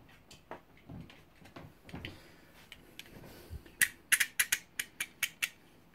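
A box cutter's blade is ratcheted out to open the box of an SPC Gear SM950 PC microphone: soft handling noises, then a quick run of about eight sharp, close clicks.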